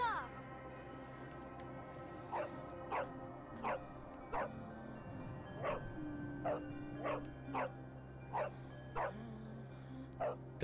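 Dog barking in the Assassin's Creed Origins video game, a series of about a dozen short, evenly spaced barks heard faintly over steady game background sound.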